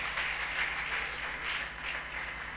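A church congregation claps during worship, a moderate, continuous patter of hands with a faint hum beneath.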